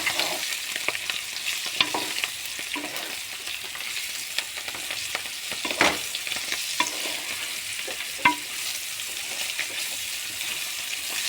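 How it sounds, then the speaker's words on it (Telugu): Bitter gourd frying in oil in a home kitchen, a continuous steady sizzle with scraping stirs and occasional sharp clinks of a spoon against the pan, close and without talk. "ఇదైతే మంచిగా నూనెలో వేగనిద్దాం."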